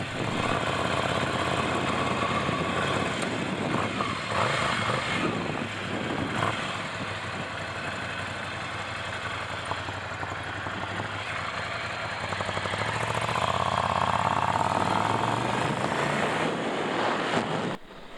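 Steady engine drone with exhaust rumble while riding a 2017 Ducati Scrambler Cafe Racer motorcycle, rising and falling slightly with throttle, wind rushing over it.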